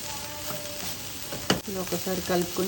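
Carrot egg bhurji with fresh coriander is stirred in a sizzling pan, with a soft steady fry and a sharp scrape of the spatula, while a person talks quietly over it.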